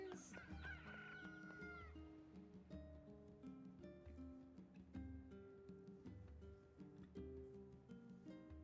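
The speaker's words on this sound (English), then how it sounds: "Chickens!" Chickens in the video game Nier Replicant cluck and squawk repeatedly in a busy chorus, with a rooster-like crow at the start, over faint background music.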